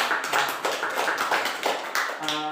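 A university lecture audience claps for a classmate's question, steady mid-loud applause from a small group lasting a couple of seconds before a tone enters at the end.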